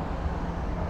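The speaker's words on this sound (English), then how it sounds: "Sorry about the traffic noise." Steady road traffic along the Blackpool Promenade rumbles at night, a low continuous wash of passing cars mixed with wind, with no voices over it.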